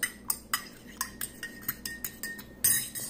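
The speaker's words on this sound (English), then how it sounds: "I stir it again." A spoon stirring a milky drink in a cup gives a quick run of bright, regular clinks against the sides, close and crisp, ending in a slightly longer scrape.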